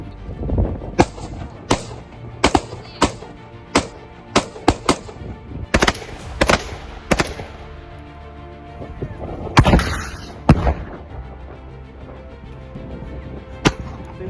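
Assault rifle shots ringing out one at a time on the front line, sharp loud cracks spaced irregularly with a few in quick pairs, echoing outdoors.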